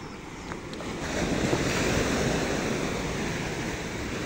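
Ocean surf at a beach breaks against large breakwater stones, a continuous rushing wash that swells louder after the first second, with wind buffeting the microphone.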